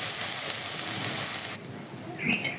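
Saag greens sizzle in hot oil in a pan, a steady loud hiss that abruptly drops away, followed by faint clatter, close up with no talk.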